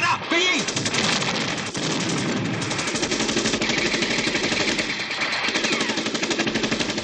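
Sustained automatic gunfire in a 1979 Romanian war film, a loud continuous rattling fusillade of rapid shots with shouted voices mixed in throughout.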